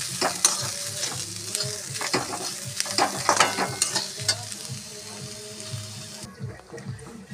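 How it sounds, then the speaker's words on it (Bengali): Green beans and carrots fry in oil over low heat for vegetable fried rice, giving a steady sizzle punctuated by repeated scraping and clattering strokes of a stirring spoon, with a voice murmuring faintly underneath. "ওভেনটা কমিয়ে রেখে বিনস আর গাজরগুলি ভালো করে ভেজে নিতে হবে।"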